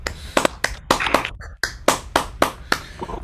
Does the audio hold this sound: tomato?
no